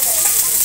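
Potato and eggplant pieces drop into lightly fried onions in a hot pan, setting off a loud, dense burst of sizzling and frying.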